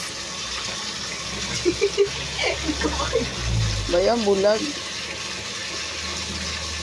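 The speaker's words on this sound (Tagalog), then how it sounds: "Lakasan mo yung tubig para yung lahat ng dumi maagos." Tap water runs steadily at full force while a kitchen knife is rinsed, a constant hiss under close conversational talk.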